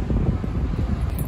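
Outdoor wind blowing across a microphone near a wholesale store in hot weather, a continuous low rumbling buffet with no talk over it.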